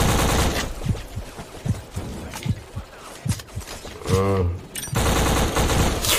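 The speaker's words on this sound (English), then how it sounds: "Oh, they're shooting in front." Gunfire in the video game BLACK: bursts of rapid machine-gun fire and scattered single shots, loud and close, with a muffled explosion-like thud near the end.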